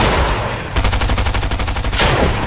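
SMG gunfire in the video game Fortnite Arena: a loud, rapid burst of evenly spaced shots that follows an earlier blast and ends in a heavier shot, close and dominant, with no voices.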